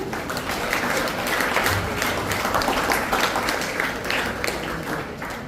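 A school result ceremony audience claps steadily for a student receiving her result sheet. The applause is dense and sustained at an even level throughout.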